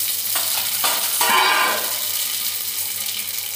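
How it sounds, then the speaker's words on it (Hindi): Cumin and mustard seeds drop into hot oil for tomato chutney, setting off a sharp burst of sizzling and crackling partway through that eases into a steady hiss close by. "तेल हमारा गरम हो गया, तो मैं इसमें डालूंगी 1 चम्मच जीरा"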